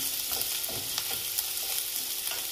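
Vegetables for manchow soup sautéed over a high flame, giving a loud, dense, continuous sizzle close up, with quick scraping and tossing strokes of the spoon through the pan.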